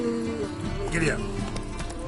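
A horse gallops in the video game The Witcher 3, with quick, steady hoofbeats heard under voices.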